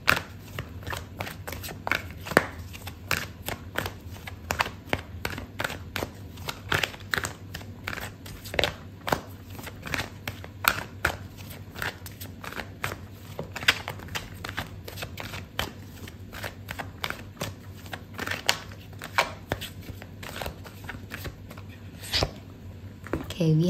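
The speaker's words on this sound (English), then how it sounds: "Okay, so I'm going to pull out another card for you." A deck of tarot cards is shuffled continuously, producing rapid papery riffles and soft slaps, with a voice talking over the shuffling throughout.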